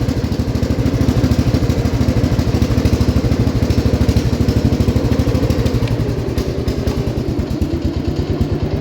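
A 1969 Gravely 432 tractor engine running rich at higher throttle, a loud, close, steady rapid thumping beat with mechanical clatter, alone without talk.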